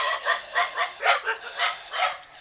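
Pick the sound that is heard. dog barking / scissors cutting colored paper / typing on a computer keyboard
dog barking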